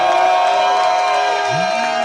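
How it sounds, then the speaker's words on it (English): A crowd at a rap battle final round cheers and shouts, a loud sustained roar with whoops and high voices rising over it, with a beat playing underneath. "Make some noise if y'all want the battle to get done."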